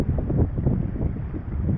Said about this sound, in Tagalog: Sarap sa pakiramdam ng hangin na sariwa